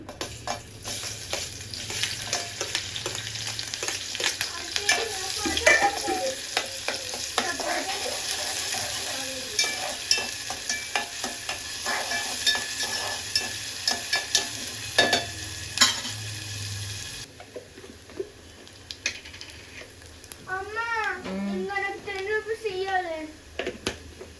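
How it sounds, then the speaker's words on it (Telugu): Onions sizzle and crackle in hot oil while being stirred for tempering, a busy frying sound; later it cuts to a quieter scene with a voice speaking. "కొన్ని ఆనియన్స్ పాలకూరలోకి వేసి కొన్ని పప్పు తాలింపులోకి వేద్దాం."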